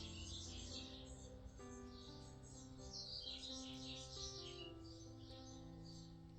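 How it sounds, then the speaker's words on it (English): Many birds chirp and tweet all around a garden wildlife pond, steady overlapping song over a low hum of background noise, with no talking. "I've got the birds all around me."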